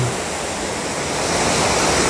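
Dotonggol waterfall behind Girimsa temple, the uppermost falls of the Daejongcheon stream, roars as a steady, loud, close rush of falling water with no voices.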